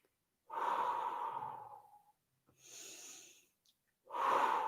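Heavy breathing during a Pilates yoga flow: two long, loud exhalations with a quieter breath between, close to the listener, in a steady effortful rhythm with no talk.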